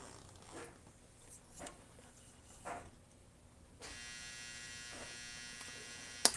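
A freeze dryer in a home kitchen starts up partway through, a steady electric buzz and hum that holds on after a few faint knocks in a quiet room.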